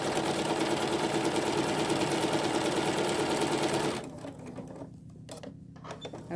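A sewing machine runs steadily at speed stitching a quilt block seam, a loud, even mechanical whir for about four seconds before it stops, leaving faint handling noises.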